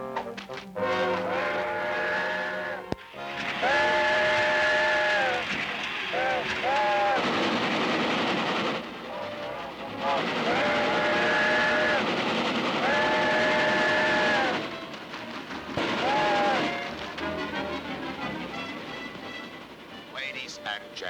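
A cartoon train runs on the rails with a steady rumbling rattle, broken by several long whistle blasts, while voices speak over it at points.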